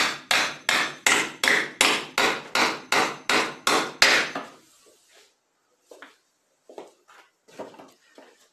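A nail being driven by hammer, about ten evenly spaced loud blows in a steady rhythm, then quieter scattered knocks and taps after the hammering stops.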